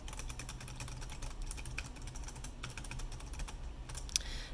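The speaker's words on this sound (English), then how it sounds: "you should be able to notice it if I just start pressing some keys here" Keys on a 3D-printed-switch numpad keyboard are pressed in a rapid, continuous patter of light clicks. The sound is quiet and close, with no talking.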